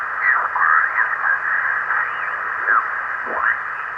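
The crystal calibrator of an old SBE-34 SSB transceiver produces a steady, noisy radio hiss with wavering whistling tones sweeping up and down through it, continuous and fairly loud with no speech.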